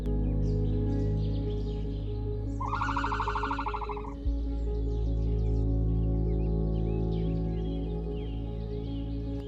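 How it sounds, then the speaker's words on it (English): Birds singing in a valley as flowers bloom, scattered chirps and calls over a steady low hum, with one loud tonal warbling burst in the middle. "the valleys are filled with the sound of birdsong"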